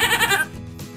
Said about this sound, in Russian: Это коза. Она мекает.